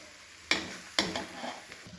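Chicken fry sizzles steadily in a pan while a utensil scrapes and knocks against the metal twice, with a softer clatter after.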